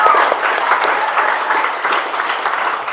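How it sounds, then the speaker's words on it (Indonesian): Steady, even applause from a classroom of children, continuous and fairly close throughout. "Beri tepuk tangan untuk anak-anak semua ya."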